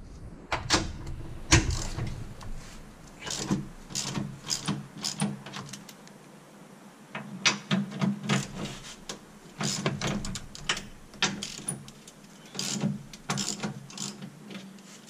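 Ratchet loosening transmission mount bolts on a Mazda 5, with quick rattling click runs repeating in short bursts and brief pauses between them, close up and without talk.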